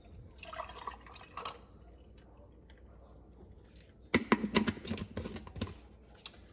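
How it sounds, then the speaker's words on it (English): Keto cold brew iced coffee made with Starbucks cold brew poured from a shaker cup over ice, a quiet trickle followed by a burst of clinking and splashing as the liquid hits the cubes, close and faint. "And then I just pour it over my ice."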